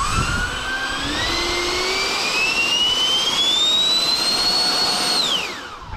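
FliteTest Flerken jet-powered model plane's engine running up on a thrust test, a loud, close, rising whine with layered tonal pitches that climb steadily and then drop off as it winds down.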